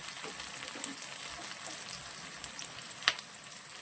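Onion and capsicum frying in a pan as Chinese masala is added. A bright, steady sizzle continues throughout, with light stirring ticks and one sharper clink near the end.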